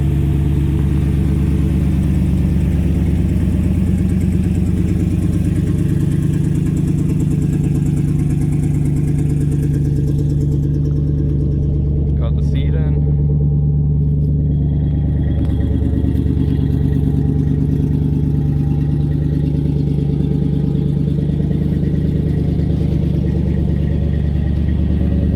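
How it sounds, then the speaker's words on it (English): A 1956 Dodge Regent engine idles steadily and loudly nearby. The low, rumbling tone is continuous, with a brief clatter partway through. No one speaks. "now that the Dodge is finally back on the road"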